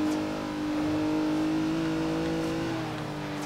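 A V12 biturbo engine in Forza Horizon 3 holds a steady, loud, droning rev, the pitch sustained with only slight swells throughout.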